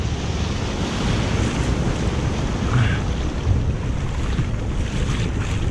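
Ocean surf washes continuously over rocks around a kayak off Malibu, a dense, rumbling roar with wind buffeting the microphone, no voices.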